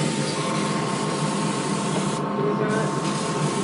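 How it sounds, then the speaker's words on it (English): An airbrush sprays paint onto a sorrel chestnut model horse, giving a steady, close hiss of air and paint with a brief dip partway through. "Airbrush isn't cooperating, it wants to make it really dark."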